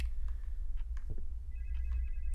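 A telephone rings faintly in another room, a couple of brief electronic trills heard at a distance over low background rumble.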